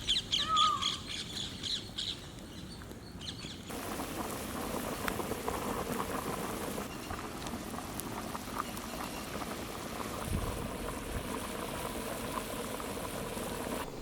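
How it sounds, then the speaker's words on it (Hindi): Mutton boiling in water in a pot on a high flame makes a steady bubbling and seething that carries on without a break for the whole stretch, with no voices over it. "मटन अच्छी तरह बॉईल हुए तक इसको हम लोग हाई फ्लेम पे पकाएंगे।"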